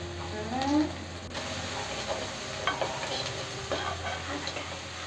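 Green chillies sizzle and fry in a pan with garlic, stirred with a spatula that scrapes and clicks against the metal at intervals, close and steady under a brief stretch of talk.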